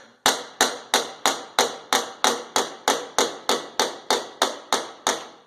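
A bodywork slapper striking sheet metal to shrink it, fifteen sharp, evenly spaced smacks at a steady brisk rhythm, loud and close with short ringing decays.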